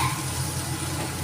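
Onions fry in oil in a pan, giving a steady, dense sizzle throughout with a brief stir or clatter near the end. No one speaks.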